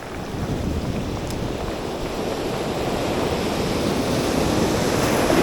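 Rough sea surf pounds the shore at a fishing spot, a loud continuous roar of breaking waves with a wind-blown hiss and no voices.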